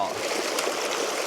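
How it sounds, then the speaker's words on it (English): Glacier-fed mountain stream on the W Trek in Patagonia, a close, constant rushing and splashing of fresh water flowing over rocks. "this is glacier water, so this is really fresh, clean water"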